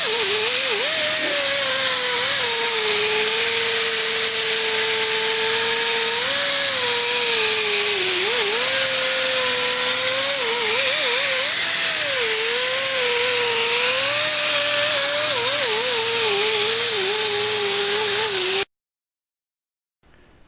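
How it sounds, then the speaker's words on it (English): A steady machine whine hums continuously with wavering pitch, loud and close, a polisher machine compounding car paint with coarse compound, then cuts off abruptly near the end. "Machine compounding with the coarse compound is done,"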